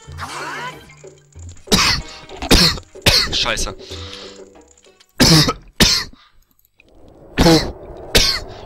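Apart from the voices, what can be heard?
person coughing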